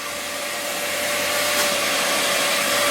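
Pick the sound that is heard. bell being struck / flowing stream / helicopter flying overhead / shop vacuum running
shop vacuum running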